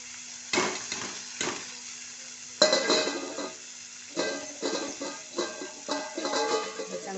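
A spoon scrapes and stirs soaked peanuts and sprouted moth beans in a pan with softened tomato, giving several separate bursts of clinking and scraping with quiet gaps between them.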